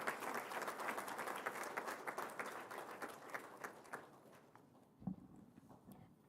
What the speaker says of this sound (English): So please join me in giving applause for all of you.